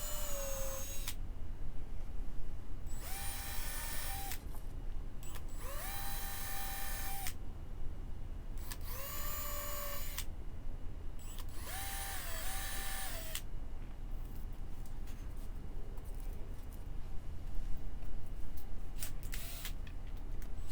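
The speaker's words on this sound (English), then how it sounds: "Then I followed my marks and pre-drilled the locations for my first set of wrenches." Power drill pre-drilling screw holes in an MDO panel for a wrench organizer, heard as five separate loud whirring bursts of a few seconds each with quiet gaps between them.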